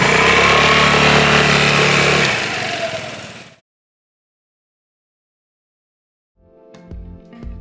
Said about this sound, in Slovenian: Cel motor ima vibracije. Prav uren ga trese